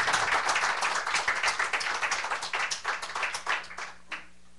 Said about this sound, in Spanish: Dile un aplauso al Señor para saber que no se ha dormido.